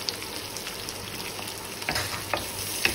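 Onion, garlic, ginger and cashews frying in a pan, a steady close sizzle with occasional scraping as they are stirred.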